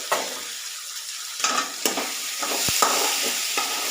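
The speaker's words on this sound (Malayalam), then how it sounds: "ഇനി തുറന്നൊന്ന് ഇളക്കി കൊടുക്കാം." Curry being stirred in a frying pan right after the lid comes off, a steady close sizzle of frying with scraping spoon strokes and a few sharp clinks against the pan.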